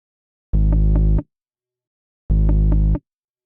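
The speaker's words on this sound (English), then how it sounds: "And under the effects, we're going to add a flanger first" Two sustained synth bass notes played back with a slow, subtle flanger, each note lasting under a second and separated by silence, loud, close and isolated with no talking.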